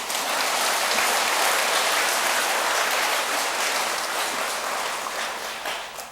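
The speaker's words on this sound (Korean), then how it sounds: "근데 박수도 안 쳐요?" Steady, dense audience applause fills the room throughout, a broad hiss of many hands clapping at once that thins slightly toward the end, with no voices over it.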